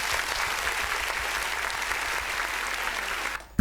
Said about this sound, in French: Nous, on aime bien les applaudissements ici.